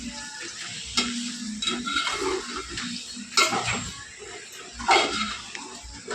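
Goat blood rakti stir-fried in a pan on a home stove, with a steady close sizzle and a few louder scraping stirs of a spatula against the metal.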